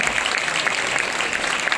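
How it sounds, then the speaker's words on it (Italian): Dense audience applause for a live band on a televised show, a short loud burst of steady clapping from a full crowd with no voices on top. "Applauso, ma che bello!"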